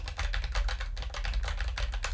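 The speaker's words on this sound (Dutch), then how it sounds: "Maar er is wel even een ding waar ik wel mee zit en dat is eigenlijk de noise aan de achterkant. Want je hoort het toetsenbord" Rapid clicking of a computer keyboard being typed on, picked up by an NZXT desktop microphone; a steady, busy run of close keystrokes with no pauses or talk.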